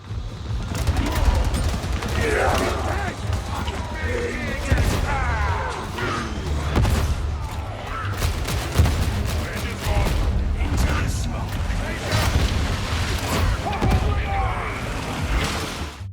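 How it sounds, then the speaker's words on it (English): Crack grenades burst among armored enemies in the video game Darktide, giving dense, continuous combat noise with repeated sharp blasts, crackling fragments and gunfire. "Chucking some new crack grenades at those pesky armored enemies, turning them into pieces."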